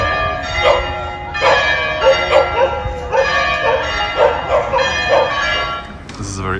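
Dogs bark repeatedly in short bursts against loudly ringing church bells in an upscale Milan square, the barking and bell tones overlapping throughout.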